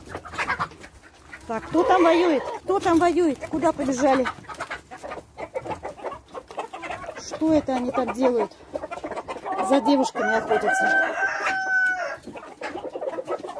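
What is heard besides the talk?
rooster and hens clucking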